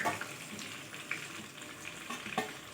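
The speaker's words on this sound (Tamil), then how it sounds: "இது ஒரு 2 நிமிஷம் நல்லா ஃப்ரை ஆகட்டும், பார்க்கலாம்" Prawns frying in a pan with curry leaves give a steady soft sizzle, with occasional sharper crackles and stirring scrapes, no talk.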